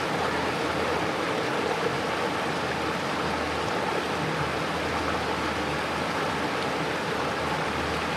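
Creek water flowing steadily, a continuous broadband rush and babble heard close by with no voices over it.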